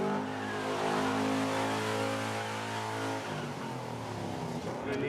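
A very expensive car's engine idles and revs steadily nearby as it is moved a few feet on a film set, with a sustained loud engine tone that shifts pitch near the end.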